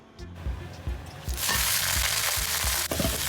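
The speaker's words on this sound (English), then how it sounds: "Stir fry on high heat for 2 minutes" Garlic sprouts, bean sprouts and lettuce stir-fried in a wok over high heat, with light clanks at first, then a loud, steady sizzle that fills the rest.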